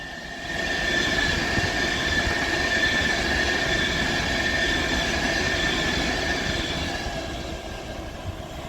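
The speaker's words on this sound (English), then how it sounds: "So then 390127 passes through." An Avanti West Coast Class 390 Pendolino train rolls slowly through Heaton Chapel on the West Coast Main Line, a steady rumble of wheels with a sustained high squeal, heard nearby for the whole stretch and easing slightly toward the end.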